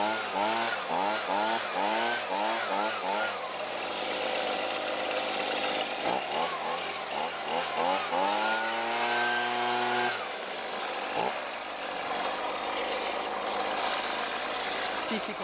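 A new Husqvarna 125B leaf blower's small two-stroke engine runs after a cold start, revving up and down in rising and falling sweeps, close and loud, with a person talking over it.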